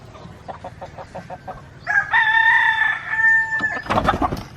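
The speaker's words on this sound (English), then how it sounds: "This bird right here is really something else." A rooster crows loudly and close at a house construction site in the Philippines, preceded by a string of rapid clucks and ending in further calls, with no talking.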